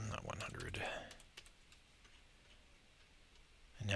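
A handful of quick key taps on a computer keyboard, close and fairly quiet, tapping out a number during the first second amid talking, then fading into a near-silent room.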